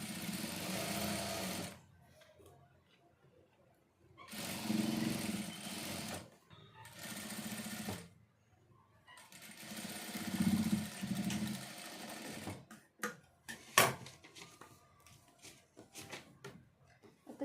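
A sewing machine stitching fabric piping runs in loud whirring bursts separated by quiet pauses, followed by softer clicks and handling sounds, with someone speaking in Telugu between runs.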